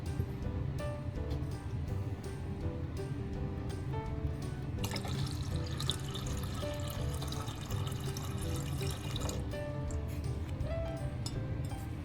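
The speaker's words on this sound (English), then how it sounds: "Now we're going to use the rest of this water to clean out this jar." Leftover pond water poured into a glass jar to rinse it, a quiet continuous splash and trickle with faint clinks of glass, swelling briefly in the middle, no talking.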